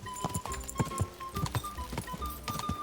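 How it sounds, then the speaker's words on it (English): Horse hooves clip-clop in a steady rhythm with snorting breaths in Kingdom Come: Deliverance 2, close and fairly loud, carrying on under a low musical tone without any talking. "someone had such a fun job in this game to record all the horse sounds"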